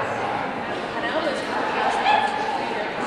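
A dog at a Hickory rally and racing event, heard as yips and whimpery bow-wow sounds fairly close, running steadily under a busy background of crowd chatter and voices for about three seconds.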